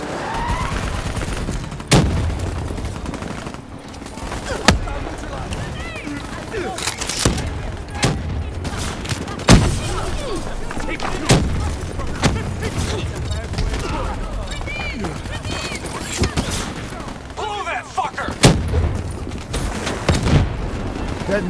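Rapid bursts of gunfire and sharp detonation cracks from a Black Ops 3 campaign mission, repeated sharp impacts spread across a dense, busy battle mix with game voices talking underneath.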